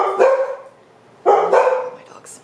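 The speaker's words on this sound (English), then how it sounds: "My dogs. Sorry about that. I had to get my dogs settled." Dogs bark in two loud, close bursts with a quiet gap between them, a short whine trailing after the second burst.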